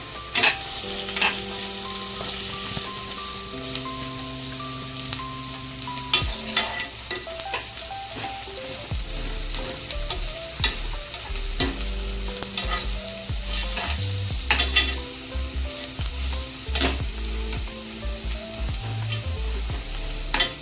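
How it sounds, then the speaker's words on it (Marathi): Four small onions, finely chopped into cubes, sauté in a pan for a veg kurma, with steady sizzling and frequent stirring scrapes, while loud sustained musical tones run underneath throughout. "त्यात आपण आता ऍड केलेले आहेत 4 छोटे कांदे बारीक कापून घेतलेले चौकोनी आकारात."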